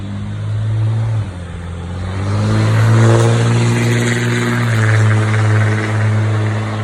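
A truck on a park road rolls past with a steady, loud engine drone that swells and then eases as it goes by, heard alone with no talk.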